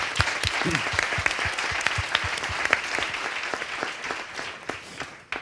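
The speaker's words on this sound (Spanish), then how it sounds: "Un aplausazo, por favor" Studio audience applauding, a steady patter of claps, close and fairly loud, gradually thinning toward the end.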